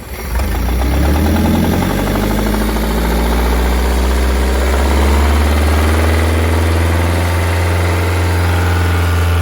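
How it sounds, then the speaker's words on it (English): A Gray Marine 620 marine engine idles at very low RPM, a loud, close, steady deep rumble with an even throb that holds for the whole stretch, with no voices over it. "They idle so good. They're such good engines."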